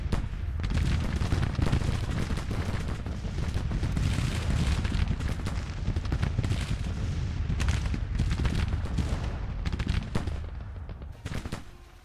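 Sustained battle in the Civil War strategy game Grand Tactician: dense, continuous volleys of musket gunfire mixed with booming cannon shots, loud and unbroken for the whole stretch with no talking.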